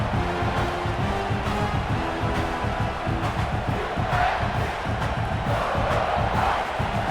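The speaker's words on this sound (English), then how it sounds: "This crowd bringing the energy and noise early" A college football stadium crowd at Clemson vs South Carolina roars and cheers continuously, a loud dense wall of noise with rising swells throughout.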